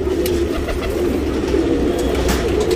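Aanekal Rekdhar and Kathang pigeons coo close by in a steady, overlapping stream of low, throaty calls, with no break throughout.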